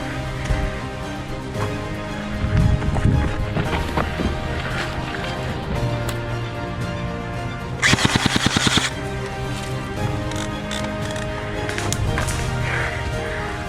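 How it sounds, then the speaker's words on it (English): Airsoft guns fire in bursts during a game, with a sharp, loud rapid volley around the middle cutting through continuous outdoor background noise and scattered single shots. "I'm taking fire."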